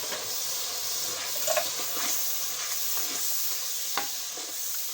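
Ground spices (salt, turmeric and red chilli powder) frying in a pan with a splash of water for potato-cauliflower curry, a continuous close sizzle with occasional stirring scrapes and soft pops, no talking.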